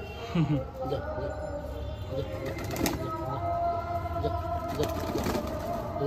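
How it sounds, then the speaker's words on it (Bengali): Male Madrasi pigeons in a loft give soft, repeated coos at moderate distance over a steady background hum, with occasional wing flutters and faint voices nearby. "এগুলো সব নর পায়রা"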